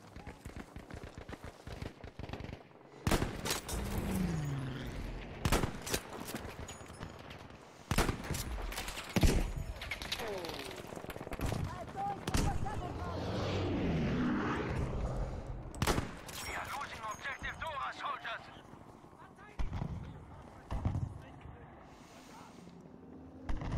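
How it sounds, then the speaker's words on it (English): Enemy gunfire in a World War II shooter, with sharp bursts and single shots cracking repeatedly at irregular intervals over roughly twenty seconds, some close and loud, others thinner and farther off, amid busy battlefield noise. "even though that jackass is shooting over here and missing me"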